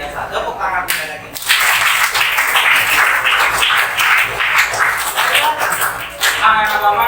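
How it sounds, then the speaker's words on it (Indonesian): Classroom applause from a group of pupils, a short burst at first and then sustained rapid clapping for several seconds, loud and close with an energetic uneven rhythm. "Tepuk tangan sekali lagi."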